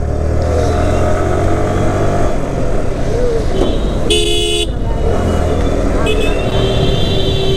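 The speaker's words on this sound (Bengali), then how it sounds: "সুপার বাইক যাচ্ছে, সবাই তো রিয়াকশন দেবে" A Kawasaki ZX-6R superbike rides through a tunnel, its engine droning steadily and echoing, with a sharp horn blast near the middle and people talking over it.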